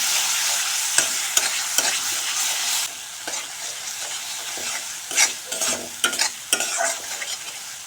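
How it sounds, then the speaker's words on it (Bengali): Rui fish curry masala stir-fried with a little water in a pan: loud close sizzling with repeated sharp spatula scrapes and clanks, intensity easing midway and then rising again in bursts. "এখন সামান্য জল দিয়ে ভালোভাবে কষে নেব"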